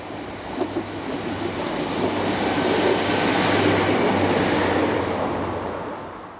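A Class 150 diesel unit, number 150-239, working a Penzance to Plymouth service, passes close by with a swelling rumble and rattle of wheels that builds, holds and fades over several seconds.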